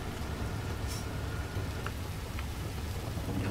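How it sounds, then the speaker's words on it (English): Heavy rain pours down in a racing game scene, a dense, constant hiss of falling water with faint drop ticks, fairly quiet and with no talking. "it is absolutely hissing down the rain"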